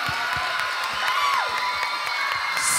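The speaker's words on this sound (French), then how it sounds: "Criez pour eux. Faites du bruit." A crowd at a club concert in Rodez cheers, whoops and shouts for the performers in a steady, fairly distant wash of noise, with a rising and falling whistle near the middle and some scattered claps.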